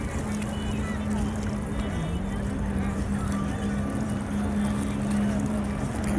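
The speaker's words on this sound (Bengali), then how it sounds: "এখানে স্পিড বোট চলতেছে" A speedboat runs across the water at sunset in Bahrain, its engine giving a steady droning hum that holds through the whole stretch with a constant wash of water and wind.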